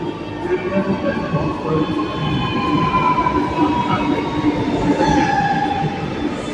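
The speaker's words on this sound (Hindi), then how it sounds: "यहाँ पर आ चुकी है मेट्रो भाई" A metro train rolls into a Lucknow station with a loud rumbling roar, its wheels and brakes whining and squealing in long, drawn-out tones.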